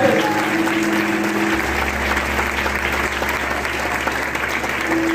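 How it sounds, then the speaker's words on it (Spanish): A church congregation claps steadily during a Sunday service, a dense, loud wall of applause sustained throughout with no speech heard. "Denle el aplauso al Señor, que el Señor merece."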